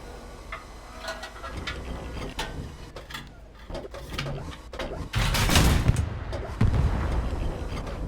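Armor-piercing rounds fired at a target in Hell Let Loose, heavy cannon-like blasts with mechanical clanks and rattling between them, the loudest boom landing near the end amid dense low rumble.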